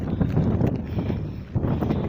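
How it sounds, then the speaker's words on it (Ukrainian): Strong wind buffeting the microphone outdoors in rainy weather, a steady, rumbling roar with gusty swells. "дуже боже який вітер"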